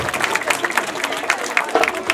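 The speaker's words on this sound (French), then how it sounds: "on applaudit les enfants." An audience at a school year-end celebration claps for the children in quick, uneven bursts, with voices mixed in among the clapping.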